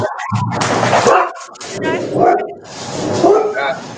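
Dogs bark and yip with some whimpering, loud and close, while people talk over them throughout.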